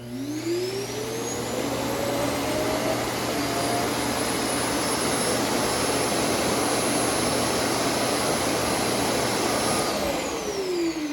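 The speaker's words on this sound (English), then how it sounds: "the last loud thing you heard, that's it dumping into the bag in the canister at the base" A loud, continuous high-pitched motor roar with a whining tone that rises at the start and falls away at the end, as an iRobot Roomba s9+ empties its bin into the bag in its base.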